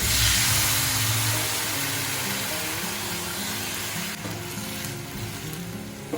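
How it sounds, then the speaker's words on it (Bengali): Water poured into a hot pan of spiced rice sets off a loud, steady sizzle and hiss that slowly eases, with faint clinks of stirring toward the end. "আমি 2 বাটি জল দিয়ে দিব।"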